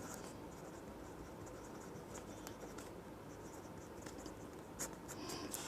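Chalk writing on a blackboard during a Class 9 maths lesson on angles, continuous scratchy strokes with a few sharper taps, fairly faint and without talk.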